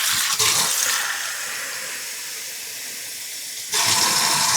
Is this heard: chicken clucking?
no